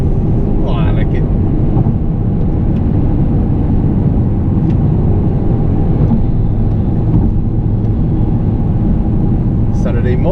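MINI Cooper S E Countryman ALL4 plug-in hybrid on the move, a constant loud low road and engine rumble mixed with wind buffeting from inside the cabin, with occasional light rattles and clicks over the top.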